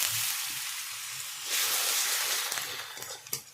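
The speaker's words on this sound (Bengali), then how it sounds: "ওর মধ্যে অল্প করে একটু জল দিয়ে কষিয়ে নেব।" Spice paste sautéing in hot oil with a splash of water for a spicy sea fish curry, giving a steady close sizzle and hiss that swells briefly, with a few stirring scrapes near the end.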